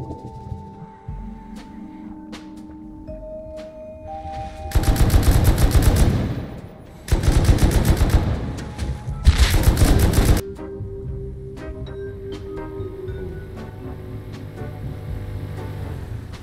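AK rifle bursts in the video game Rust, three loud rapid-fire volleys of several seconds each, separated by short pauses, over quieter game ambience.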